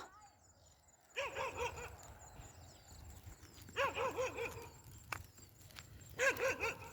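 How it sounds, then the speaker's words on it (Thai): A dog barks outdoors in the evening, letting out three separate bursts of quick, sharp yelps at moderate distance over a low, steady background hum. "หยุดเลยอย่ามาเห่า"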